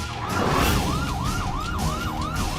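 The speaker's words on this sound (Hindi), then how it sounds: "पुलिस की सायरन की आवाज सोसाइटी कंपाउंड से आ रही है" Police siren wailing in a housing society compound, a loud close electronic up-and-down yelp repeating in quick cycles over a low rumble.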